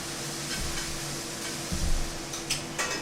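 Garlic and onions fry in a pan with a soft, steady sizzle close by, broken by a few light stirring scrapes and clicks.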